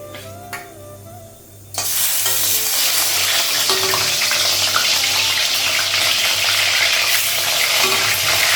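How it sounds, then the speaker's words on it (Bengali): Fish fries in oil in a pan, a loud steady sizzle starting abruptly after a couple of quieter seconds of kitchen background, then hissing continuously at close range. "মাছটা একটু ভাজা হয়ে গেছে"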